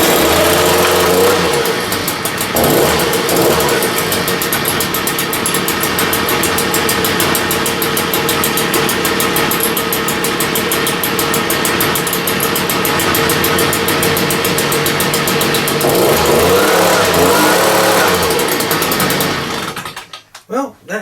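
A Stihl BG86c leaf blower with a newly replaced carburetor spring runs on its small two-stroke engine, revving hard and then dropping back to a rough, buzzing idle before cutting off abruptly at the end.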